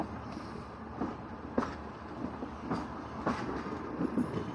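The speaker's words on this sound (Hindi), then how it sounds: "जबकि हमारी ट्रेन यहाँ से डाइवर्ट हो रही है" Thal Express passenger train running on rails, a steady rolling rumble with periodic clickety-clack wheel knocks at joints, fairly close and continuous with no talk.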